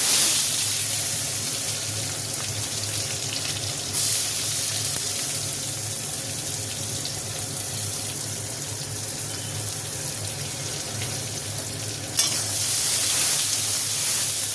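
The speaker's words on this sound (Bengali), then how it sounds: "পেঁয়াজটা লাল লাল করে ভাজা হয়ে গেছে" Onions fry in oil in a wok with a steady, dense hiss that holds fairly loud and even throughout, and a couple of brief shifts where stirring changes the texture, with no speech.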